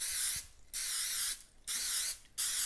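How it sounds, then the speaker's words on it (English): Pam olive oil cooking spray hisses onto breaded chicken strips in three steady bursts of about a second each, close and clear with short pauses between, no talking. "Now we're going to go ahead and spray it with some cooking oil."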